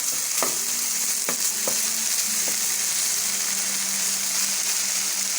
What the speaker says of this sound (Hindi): इसको आपने अच्छी तरह भूनना है।